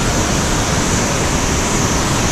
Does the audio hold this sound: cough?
no